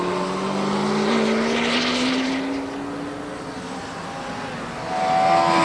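Racing motorcycles, among them a Suzuki GSX-R 1100, roar past during the 1988 Castrol 6 Hour endurance race at Manfield, New Zealand; a loud, steady engine drone climbs in pitch as the bikes pass.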